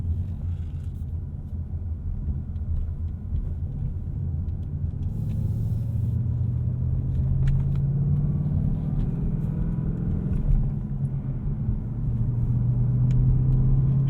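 A 2018 Ford Mustang GT Premium Performance Pack in normal drive mode, heard from inside the cabin as a steady low engine rumble and road noise, with the engine pitch slowly climbing partway through.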